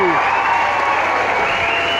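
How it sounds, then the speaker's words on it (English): An outdoor political rally crowd in a San Antonio park applauds and cheers for former Secretary Julian Castro, a dense, continuous wash of clapping and crowd noise at even loudness. "Ladies and gentlemen, give it a round of applause to former Secretary Julian Castro."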